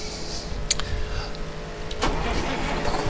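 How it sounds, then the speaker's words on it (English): Truck engine starting in the American Truck Simulator game, a cranking whir that catches into a low steady idle rumble, with a brief click partway through. "Start this truck up."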